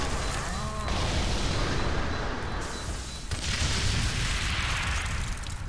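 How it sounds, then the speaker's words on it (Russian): Explosions and gunfire rumble in the F.E.A.R. 3 co-op shooter, with a dense, noisy blast near the start and another heavy burst midway, over a continuous loud roar of combat noise. "О, это взрыв!"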